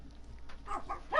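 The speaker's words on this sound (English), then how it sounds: "Dog's going crazy because the door opened on its own." A dog barking indoors while Minecraft is being played, a few short faint yaps building to a louder bark at the very end of the brief moment.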